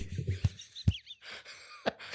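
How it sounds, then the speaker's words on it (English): Sharp knocks of a ring struck against a tabletop, several separate hard impacts spread across a couple of seconds, close and fairly loud, with faint breathy noise between the hits. "Just start banging my ring on the table."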